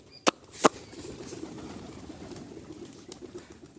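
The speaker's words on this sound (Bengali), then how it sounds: "তো কবুতরগুলো একটু দেখাই কতগুলো কবুতর আছে।" Jalali pigeons coo with a soft, low, continuous murmur close by, opened by two sharp clicks or taps.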